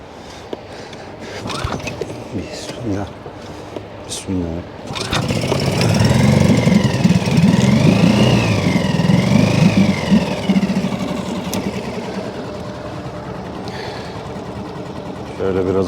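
The outboard engine of a small fishing boat is choked and started with a few pulls, then catches and runs with a steady, loud, buzzing drone, with a voice speaking over it.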